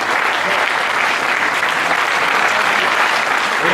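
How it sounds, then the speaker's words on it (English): A hall full of people at a college festival claps in dense, sustained applause, loud and even throughout, with no pauses or cheering standing out. "So a huge round of applause for them."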